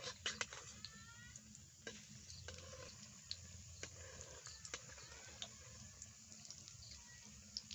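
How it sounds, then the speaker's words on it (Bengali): Date sweets fry gently in hot oil while being turned, giving a faint, steady sizzle broken by soft clicks and scrapes of the utensil against the pan. "এবারে আমি বেশ কিছুক্ষণ সময় নিয়ে এইগুলোকে উল্টে পাল্টে লাল লাল করে ভেজে নেব।"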